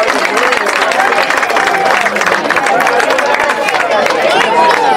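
Crowd applause and cheering for the technical crew at a year-end party, a dense, loud wash of clapping with whistles and shouts running steadily throughout.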